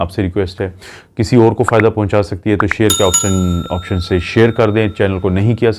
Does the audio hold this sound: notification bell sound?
yes